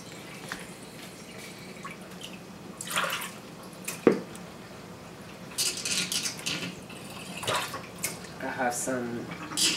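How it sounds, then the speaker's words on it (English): Rinse water is poured out of a container in a kitchen in several short splashing bursts and trickles, with a sharp knock partway through and faint background noise between the pours. "So I'm going to empty this water."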